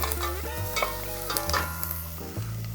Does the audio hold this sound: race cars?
no